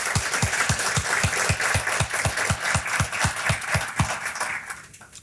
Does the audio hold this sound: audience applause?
yes